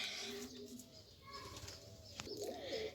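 Pigeons coo softly nearby in low, throaty rolling calls, with faint background murmur and a brief flutter.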